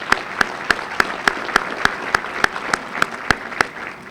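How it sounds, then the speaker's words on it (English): Applause from an awards-ceremony audience at a chamber of commerce event honoring the sponsors, with sharp, evenly spaced claps standing out over a steady wash of clapping for about four seconds. "Have a quick round of applause for the sponsors."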